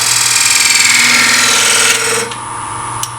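Wood lathe hollowing the center of a segmented turning with a skew chisel, a loud, steady, rattling machine roar that runs close and continuous before easing off near the end, with no talking.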